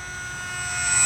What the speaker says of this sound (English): this is a snappy little airplane